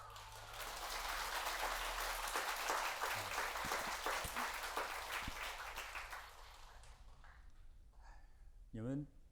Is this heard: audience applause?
yes